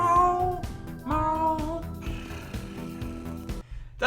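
A cat meows several times in quick succession, close and fairly loud, with short harmonic cries separated by brief pauses.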